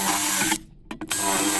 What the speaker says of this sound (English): I'm going to drill another 2 holes